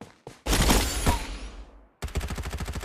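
Automatic gunfire from the video game Farlight 84: a dense, loud roaring burst of shots, a short gap, then a rapid evenly spaced rattle of rounds to the end.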